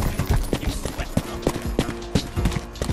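Horse hooves clip-clop at a steady trot in the video game Rustler, a medieval open-world game, with sharp, close, evenly spaced hoofbeats over game background noise.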